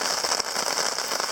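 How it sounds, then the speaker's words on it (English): Steady rain patters on a tarp shelter during a storm in the Boundary Waters wilderness, a dense continuous drumming close overhead with no voices. "it's about 2:30 and it's really raining and booming now"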